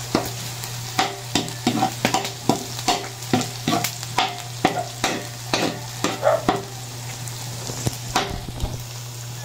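Sliced onions fry in a pan for Filipino palabok, a constant sizzle under a regular series of sharp spatula scrapes and knocks as they are stirred, close and fairly loud.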